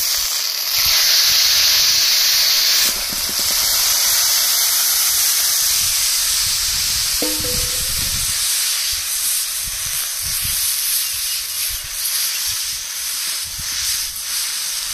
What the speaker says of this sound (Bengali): এবার জল দিয়ে দেবো, গরম জল।